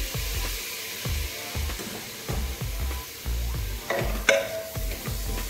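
Chopped tomatoes added to frying masala for Kerala chicken curry are stirred in a pan with rhythmic scraping strokes about every half second over a steady close sizzle, with one sharper clink near the end; no voices.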